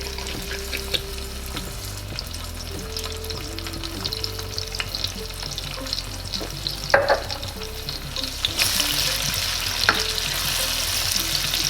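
Orzo toasting in oil in a pot, sizzling and frying steadily while a utensil stirs and scrapes it, with occasional clinks and a brief burst of hissing near the end; no one talks.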